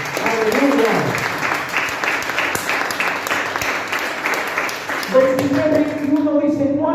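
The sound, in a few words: church congregation applause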